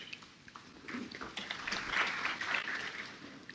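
Audience at the launch of a national fund's strategic plan breaks into applause, a broad crackling patter of many hands that swells toward the middle and stays fairly steady, with no talk over it.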